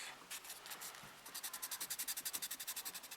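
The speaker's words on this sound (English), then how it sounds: "Got some 600 grit sandpaper here. Just kind of flatten it out, hopefully." Part of a Bandai 1:100 Macross Missile Phalanx plastic model kit is sanded with 600 grit sandpaper, heard as soft, close rubbing that settles into quick, even back-and-forth strokes.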